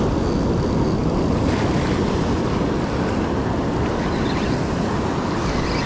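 Ocean surf breaks and washes continuously along a beach during surf fishing, a dense, steady roar of waves with wind noise and no voices.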